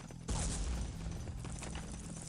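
A grenade blast in a competitive match at a tournament final bursts out loud and broadband, then its rumbling tail and scattered gunfire carry on for about two seconds.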